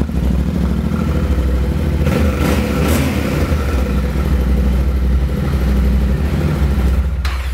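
A Yamaha Tenere 700 World Raid motorcycle on its stock exhaust idles loudly and revs up near the microphone, with a burst of clattery throttle in the middle before settling back to a steady rumble.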